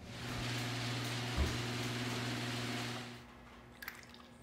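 Epoxy resin poured from a heavy bucket makes a steady, thick, rushing liquid sound over a low hum for about three seconds, then the flow cuts off, leaving a few faint drips.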